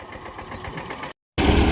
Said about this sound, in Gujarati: તો અહીંયા હવે આવે અને ટ્રેક્ટર ચાલુ કરી દીધું હે